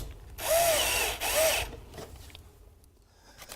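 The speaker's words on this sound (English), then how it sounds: "Place the screw in the middle of the kidney slot." Power drill driving a screw through the slot of a vinyl siding panel on a wall: two close whirring bursts with a short break between, then quiet handling noise.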